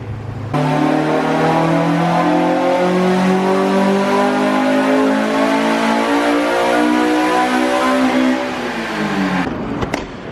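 A Honda Civic with a swapped Type R engine revs hard on a dyno, its loud, close engine note climbing and holding at high rpm for several seconds before falling away abruptly.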